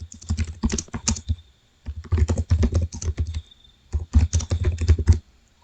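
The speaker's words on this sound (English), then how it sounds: "I'm just going to type in random" Fingers typing on a computer keyboard in three bursts of rapid, close, clattering keystrokes separated by short pauses, with no voice.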